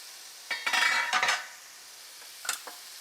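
Onions fry with ginger, garlic, red chilies and curry leaves in a pan, a low sizzle broken by a few bursts of spatula stirring and scraping, close and moderately loud, with no voices.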